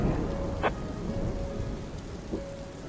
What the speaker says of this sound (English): It's quite loud thunder.